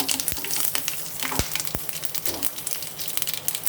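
Dry red chillies sizzle in hot oil for a cabbage-curry tempering, a soft continuous crackling fry with a few sharp pops and clicks of utensils, fairly quiet and with no talking.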